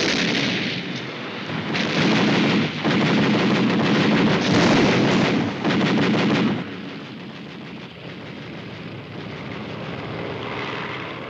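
A massed Soviet anti-aircraft artillery barrage from the Battle of Stalingrad in 1942 pounds in rapid, overlapping booms and cracks that run continuously for several seconds, then settle into a dull, distant rumble.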